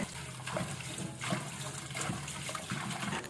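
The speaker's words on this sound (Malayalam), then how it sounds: "ഞാനിതിനെ നന്നായിട്ട് കഴുകി വൃത്തിയാക്കി എടുക്കാനായിട്ട് പോവുകയാണേ" Tap water runs in a steady stream while leaves are rinsed and rubbed under it, with soft splashes rising and falling.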